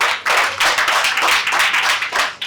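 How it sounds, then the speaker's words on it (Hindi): A classroom of eighth-grade students clapping together in a short burst of steady, fairly close applause. "वेरी गुड, तालियां।"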